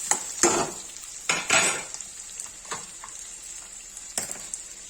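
Spoon scraping and knocking against a pan while egg curry with ginger-garlic paste is stirred, a handful of short clattering strokes with pauses between, close and moderately loud.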